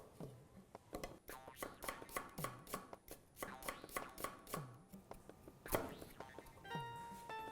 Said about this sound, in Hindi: अब प्याज कर लेते हैं स्लाइस